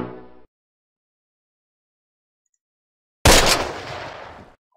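A short burst of gunfire in the war strategy game Close Combat The Longest Day, a sharp loud crack decaying into rumble after a long silence, with a brief voice at the start and end.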